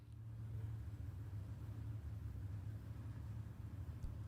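A Ford Mustang and the Checkmate Chevrolet Camaro at a stick shift drag racing event, with a deep rumbling engine drone heard from a distance, steady and low, without talk.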